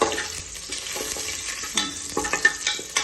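Pulao spices frying in hot oil in a pan as they are stirred, a steady soft sizzle broken by scraping and clinking strokes of the spoon, close and fairly quiet with no voices.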